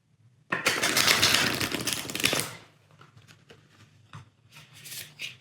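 A deck of tarot-style reading cards riffled in a loud, dense two-second burst of rapid flutter, then softer scattered taps and slides as the cards are squared and handled up close.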